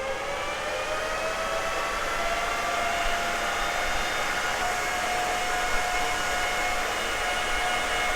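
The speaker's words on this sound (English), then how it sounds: "Let's turn it on and see the noise level on this machine" Fans of an Antminer Z9 ASIC miner, powered by a 1600 W EVGA supply, run right after switch-on. They give a loud, steady whirring roar with a high tonal whine that holds at an even level throughout.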